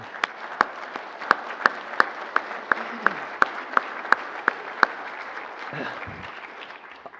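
Audience applause at a Westgold Resources gold producers' presentation: steady clapping from a crowd for several seconds, with louder sharp individual claps punctuating it, fading near the end.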